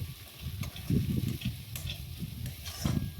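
Pointed gourd peel paste stirred in hot oil in a pan, with steady low scraping and stirring over a soft sizzle, swelling in a few louder strokes and no talking.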